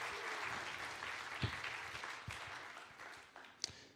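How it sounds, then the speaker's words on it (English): Audience applause for a guest on stage at a music event, a soft, steady patter of clapping that fades, with a few sharper claps near the end. "give her a round of applause."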